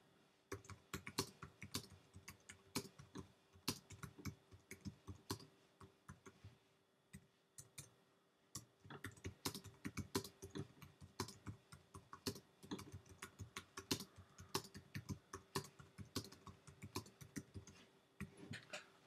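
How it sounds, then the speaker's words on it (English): A computer keyboard clatters with fast, close, crisp keystrokes in irregular bursts, pausing briefly around the middle before the typing resumes steadily. "And we can write in our content."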